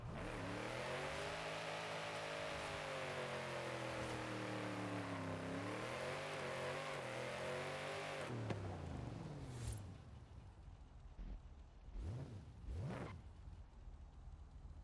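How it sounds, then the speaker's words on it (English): A rear-wheel-drive drift car in Forza Horizon 5 holds high revs and bounces off the rev limiter with a steady buzzing drone for about eight seconds, then drops off, followed by a couple of brief engine blips. "Now because it's rear-wheel drive and it's a drift car, it's going to bounce off the limiter, but we can make it controlled like so."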